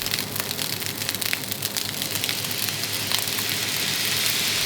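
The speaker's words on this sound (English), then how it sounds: "Fry the rice slowly to let the moisture evaporate." Egg fried rice made with long grain rice sizzles slowly in a pan with a steady, soft hiss and a dense crackle throughout, close and moderately quiet with no talking.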